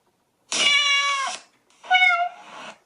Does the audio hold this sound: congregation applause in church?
no